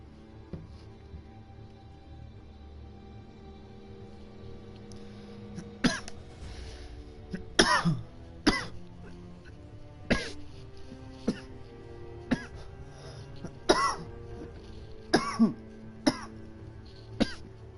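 A person coughing and clearing their throat repeatedly at close range, with sharp bursts recurring every second or two over a low, steady background hum.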